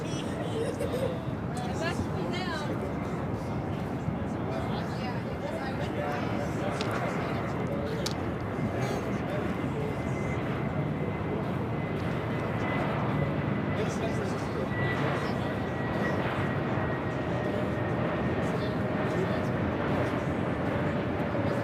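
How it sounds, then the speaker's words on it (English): A Hawaiian Airlines A321neo airliner comes in to land at an airport, its engine roar a steady, broad rumble throughout, with people chatting over the noise. "This is Hawaiian Airlines Flight 64 coming in from Lahui on the A321 Neo."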